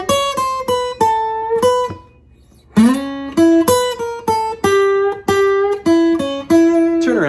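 Electric guitar plays a blues lick in E, a run of clear plucked notes and bends with a short pause near the middle, loud and close with no talking.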